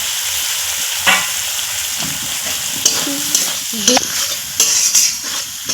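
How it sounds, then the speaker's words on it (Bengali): Fried potatoes being stirred into a sizzling spice masala with garlic cloves for egg curry, a utensil scraping the pan in irregular strokes over a steady frying hiss, close and fairly loud. "খুব ভালো করে একটু নাড়াচাড়া করে নিচ্ছি"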